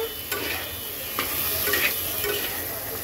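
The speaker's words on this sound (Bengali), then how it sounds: "আমি সাজনাগুলো ভেজে নেব।" Drumsticks (moringa) frying in a pan, a loud continuous hiss of hot oil with a few spatula scrapes and stirring knocks over it.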